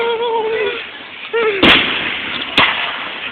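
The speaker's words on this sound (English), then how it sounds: "Little fireworks." Small fireworks going off outdoors: a whistling rise followed by a sharp, loud bang, then a second crack a moment later, with faint background noise between.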